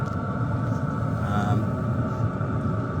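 A Sunster diesel heater ramping up: a low, steady mechanical rumble with a constant hum and faint whine drones continuously, close by, as its fan and burner run.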